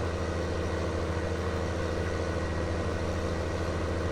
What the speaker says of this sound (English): tractor's struggling a little bit. It's not too bad, but we're not getting the full 7 mile an hour.